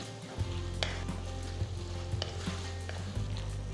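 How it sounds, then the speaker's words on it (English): Chopped tomatoes with ginger garlic paste sautéing in a pan, giving a steady close sizzle and fry with occasional soft stirring clicks and scrapes, no voices. "Mix well and saute until the tomatoes are mushy."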